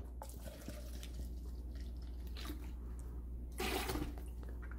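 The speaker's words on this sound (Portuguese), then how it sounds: "nós vamos utilizar aqui, ó, apenas 100 ml de álcool." Alcohol, 100 ml, is poured into a homemade powdered-detergent mixture with lemon peel, a faint trickling, splashing liquid sound that swells briefly near the end.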